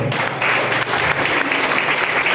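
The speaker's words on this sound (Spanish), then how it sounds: "Alguien dé un aplauso al Señor, por favor." A Spanish-language church congregation breaks into loud, sustained applause, a continuous close roar of many hands clapping with a faint murmur of voices underneath.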